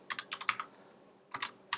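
Light tapping on a computer keyboard, a few quick clusters of keystrokes, then a pause and another short burst, quiet and close.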